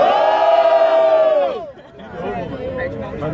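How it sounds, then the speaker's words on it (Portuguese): Crowd at a rap battle roaring and cheering loudly together, the shout fading after a second and a half into scattered chatter and shouts. "Barulho pro Caco do Rap"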